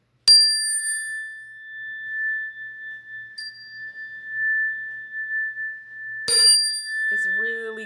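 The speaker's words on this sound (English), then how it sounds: "I also like to use my wind chime because the vibration and the healing sound of the wind chime is much lighter" A wind chime used in a Reiki healing setup rings with a sustained bright metallic tone, struck once at the start and again near the end, the second strike followed by a brief voice.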